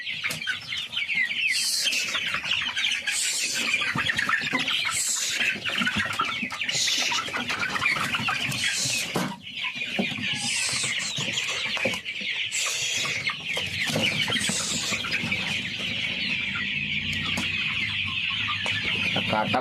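Poultry farm chickens, including large broiler birds, cluck and squawk steadily in a busy, overlapping chorus with occasional sharper calls, close by and without talk.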